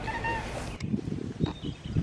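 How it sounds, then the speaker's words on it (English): A pet cat named Ari meows a few times close by, short voiced cries broken by small pauses, with no talk over them. "We have a cat too named Ari"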